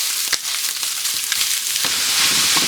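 Meat browning in a fairly hot pan for penne alla Norcina gives off a steady, close sizzle and crackle, with a few sharper pops and scrapes over the continuous frying hiss.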